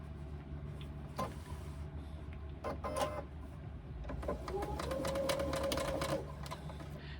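Sewing machine stitching a facing on a fabric pocket pouch, a steady close mechanical whir with rapid needle clatter and a few short starts and stops.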